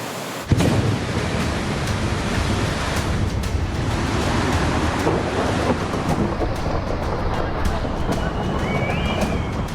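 A flooded river in Kullu, Himachal, swollen by heavy monsoon rain, roars as a loud, steady wall of rushing water that holds constant throughout with no break.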